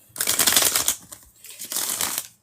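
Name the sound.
tarot cards being shuffled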